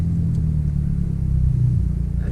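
A manual-transmission car engine runs with a low, steady rumble, close and fairly loud, idling evenly without revving.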